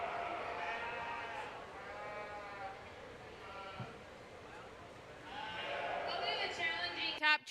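Market lambs bleat at a county fair sheep show, several wavering calls near and far over a crowded hall murmur, with a sharp knock at the end.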